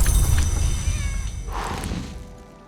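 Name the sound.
cat meowing in the video game Book of Hours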